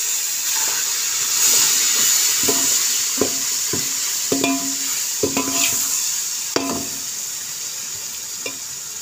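Tomatoes go into a pan of sizzling spices for matar pulao, a continuous hiss and sizzle with a string of clattering stirs and scrapes scattered across the middle, close and fairly loud, no speech.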